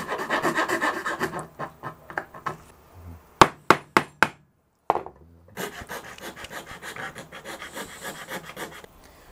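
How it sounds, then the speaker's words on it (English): A file rasps in quick rhythmic strokes across wood while a gap in a custom guitar neck is shaped, close and clear, with a few sharp taps and a short pause before the steady filing resumes. "So I need to file out that gap right there."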